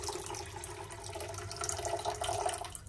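One cup of water pours into a pan for sugar syrup in a home kitchen while making honey candy, a soft close trickling and splashing that runs steadily and then stops.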